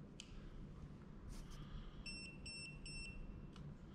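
Three short high-pitched electronic beeps in quick succession from a fishing bait boat remote control indicating charge level, clear against a low background hum.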